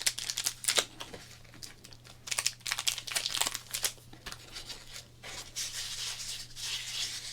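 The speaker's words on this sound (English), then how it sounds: "I'm going to choose a pack of cards to open." A foil pack of baseball cards is handled and torn open up close. Sharp, irregular bursts of crinkling and rustling come with brief quieter pauses, and no one speaks.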